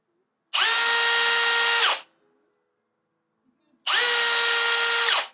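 A Milwaukee power drill fitted with a 4-foot drill bit spins up in two steady, high-pitched bursts of about a second and a half each, separated by a short pause of silence.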